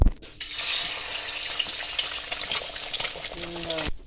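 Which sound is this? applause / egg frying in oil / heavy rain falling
egg frying in oil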